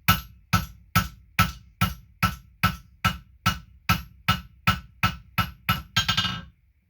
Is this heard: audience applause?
no